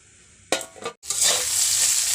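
Potatoes drop into hot oil in a pan and break into a loud, close sizzle after a brief clatter, the frying hiss then holding steady without any voices.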